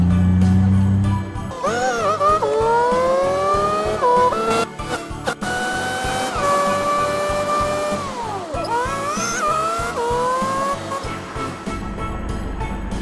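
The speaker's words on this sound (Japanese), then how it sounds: "エンジンサウンドもこだわられていて、バニラサウンドを少し改造したような感じの音になってます" A 1976 Ibishu Claria wagon in BeamNG.drive, a four-speed manual rear-drive car, revs its engine steadily, pitch climbing and dropping through repeated gear changes, loud and close with no talk.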